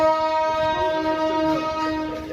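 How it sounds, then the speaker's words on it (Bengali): A train horn blares at Pahartoli railway station, one steady, loud, sustained blast that lasts the whole moment over low rail rumble, with no talking. "আমরা আছি এখন এই পাহাড়তলী রেলওয়ে স্টেশনে"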